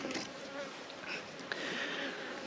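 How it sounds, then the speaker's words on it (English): Honey bees swarm right up against the microphone while honey supers are taken from a weak hive, making a dense, steady, close buzzing drone that fills the whole stretch with no talk. "when the bees are up in the microphone like that, we can't hear nothing"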